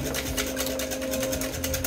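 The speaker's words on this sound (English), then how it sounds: "Let's whisk our eggs, our confectioner sugar" Eggs and confectioner sugar are whisked in a bowl, a fast continuous scraping and rattling of the whisk, close and steady throughout with no voices.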